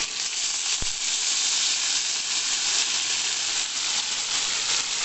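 Cluster beans drop into hot oil tempering and sizzle with a loud, steady, close hiss throughout, with one brief knock near the start and no talking.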